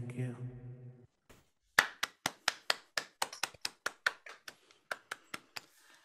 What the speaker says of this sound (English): It is good that you clapped.